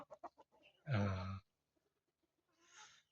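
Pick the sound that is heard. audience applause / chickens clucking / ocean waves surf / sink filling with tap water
chickens clucking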